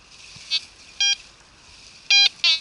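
A metal detector beeps on a strong signal, giving four short electronic tones at uneven intervals against a quiet background.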